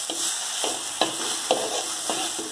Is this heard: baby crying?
no